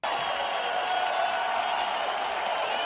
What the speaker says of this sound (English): Applause for that, man.